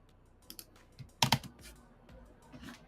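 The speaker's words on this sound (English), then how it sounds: "Let's do a little typing action." Scattered keystrokes on a computer keyboard sound as soft, irregular clicks with one sharper double tap in the middle, close by and quiet, with no voices.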